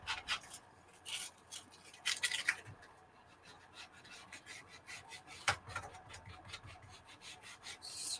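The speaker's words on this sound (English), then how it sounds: "I'm gonna scratch off about 1/2 inch of paint." Paint scratched off a junk journal cover, producing short, close scraping and rasping strokes in irregular bursts, with a few sharper scrapes and quiet gaps between them.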